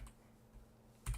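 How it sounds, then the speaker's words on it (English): Typing on a Kinesis Form keyboard with low-profile 50-gram linear switches: a faint, quiet patter of keystrokes with a louder clack near the end. "Kinesis Form keyboard, has a low profile key switch that is 50 grams linear switch"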